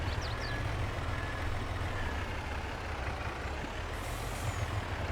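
In a Farm Sim 22 session on a Western Australian farm, a truck's air brakes hiss loudly over a constant low engine rumble, with a brief higher hiss near the end and no talk.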